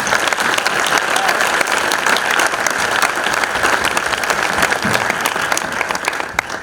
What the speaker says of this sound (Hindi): मैं आपके ताली बजाता हूँ।